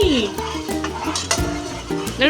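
A tadka for aloo matar sabzi cooks in a home kitchen, with stirring scrapes, clinks of a utensil against the pan and background sizzling; music plays underneath, and a voice is briefly heard.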